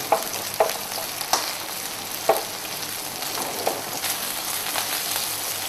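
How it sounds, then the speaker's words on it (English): Food fries in shallow oil in a home kitchen, a steady close sizzle and crackle with occasional sharper pops and utensil clicks, with no voices. "I prefer to fry them in shallow oil"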